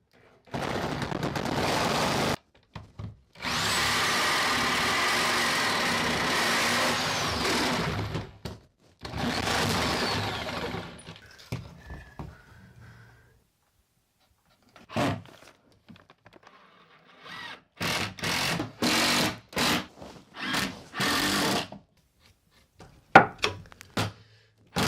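A power tool cuts nails out of bathroom trim during a remodel, running in loud sustained bursts of several seconds each, then in shorter choppy runs with pauses between, close by.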